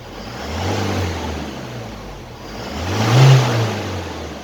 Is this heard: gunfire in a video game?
no